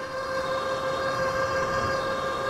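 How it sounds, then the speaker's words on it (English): An ONEBOT S2 Mini electric bike motor strains during a climb, a steady high whine with strong tonal hums over continuous wind and road rumble, close and loud throughout. "And you can probably hear the motor."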